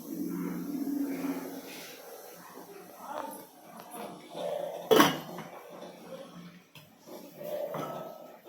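A pot of boiled rice lifted off a home stove, with soft kitchen clatter followed by one sharp metallic clank of the pot, while a person talks quietly nearby.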